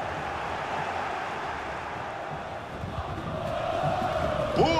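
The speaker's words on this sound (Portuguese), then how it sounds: "a torcida grita para empurrar o time" A stadium crowd in a FIFA football game between São Paulo and Santos roars in a continuous wash of cheering that swells toward the end, with a commentator talking over it.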